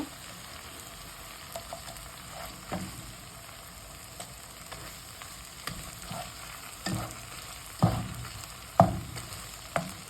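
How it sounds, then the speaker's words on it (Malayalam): Green chillies fry in a hot pan with a continuous soft sizzle, broken by louder scraping stirs that come more often toward the end. "ഇനി നമുക്ക് പച്ചമുളക് ഇട്ട് കൊടുക്കേ."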